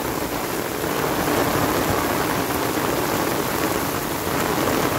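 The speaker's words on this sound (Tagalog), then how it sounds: "ang lakas ng ulan" Heavy rain pours steadily with gusting wind, a dense, continuous roar of water on surfaces that holds at a constant loud level throughout, with no voices.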